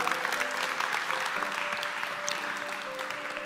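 Steady audience applause fills a talk hall, a dense continuous patter of many hands at moderate volume, holding evenly throughout with no voices over it.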